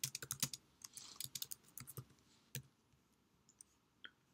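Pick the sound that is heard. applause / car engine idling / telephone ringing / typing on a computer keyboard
typing on a computer keyboard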